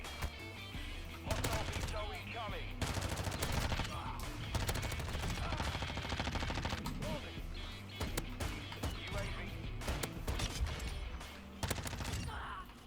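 Rapid bursts of Lachmann submachine gun fire in Modern Warfare 2, loud and sustained with short pauses between strings of shots, layered over game sounds.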